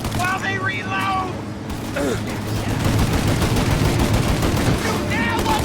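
Rapid, dense gunfire in the video game Mafia: Definitive Edition, a loud continuous fusillade of overlapping shots with shouted voices over it.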